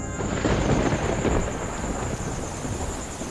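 A thunder clap rumbling low and heavy, a single rolling boom that holds for a few seconds and then slowly fades, with a faint steady high tone above it.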